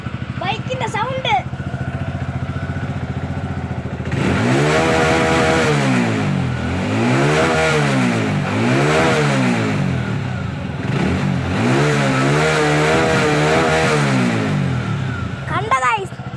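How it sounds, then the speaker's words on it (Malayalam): A motorcycle engine runs up close and loud, revved in a series of rising and falling throttle bursts, with a short voice heard at the start and end. "ഇതാണ് ബൈക്കിന്റെ സൗണ്ട്."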